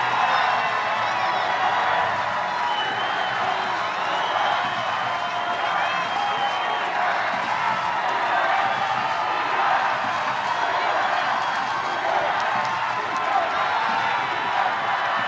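A large crowd at an ultimate frisbee semifinal between Seattle and Madison roars and cheers steadily throughout, a dense wash of voices and noise without pause.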